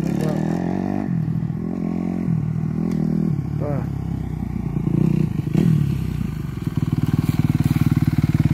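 A motorcycle engine drones and revs loudly during a wheelie, its pitch rising and falling, with clattering and scraping midway and a steady pulsing idle toward the end; voices are audible briefly.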